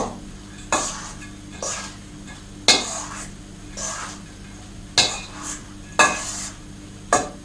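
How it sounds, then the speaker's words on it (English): Macaroni salad being stirred in a bowl, with a spoon knocking and scraping against the sides in irregular clinking strokes about every second or so, close and fairly loud, with no talking. "I am mixing the macaroni salad."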